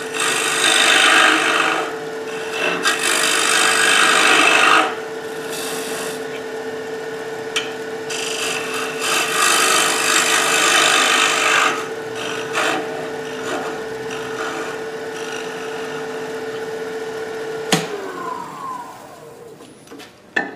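A gouge takes an aggressive cut through wood on a lathe while turning an enclosed form, giving a loud, steady rasping shear that runs for several seconds, drops off, resumes and then stops.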